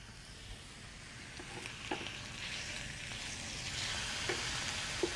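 Steak for carne asada sizzles on an outdoor grill, a faint, even hiss that swells slightly, with a few small pops and crackles and no talking.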